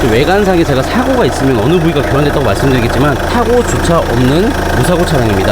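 A Chevrolet Winstorm SUV engine idles steadily indoors in a showroom after a cold start, a low constant hum running beneath someone speaking throughout.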